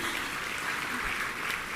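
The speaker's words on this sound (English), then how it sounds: "Can you please give a big round of applause to yourselves?" Parents in an audience at a university freshers' induction programme applauding, a continuous, even wash of clapping from a large crowd, fairly distant and without talk.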